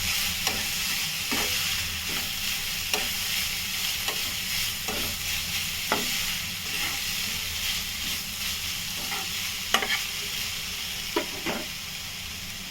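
Grated potato sautéing in a pan, a steady broadband sizzle and hiss with repeated short scraping stirs of a spatula, close and fairly loud with no talking.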